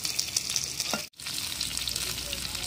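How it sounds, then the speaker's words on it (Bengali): Fresh pond fish fry in oil with a strong, crackling sizzle and some stirring, broken by a momentary silent dropout partway through. "মাছগুলো ভাজা হয়ে গেছে"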